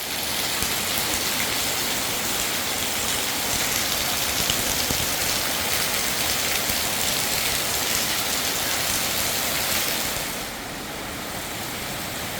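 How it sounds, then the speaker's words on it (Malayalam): Heavy rain pours down steadily in a dense, unbroken hiss of drops on surfaces, close and loud, easing slightly in level near the end, with no talking. "കനത്ത മഴയായിരുന്നു."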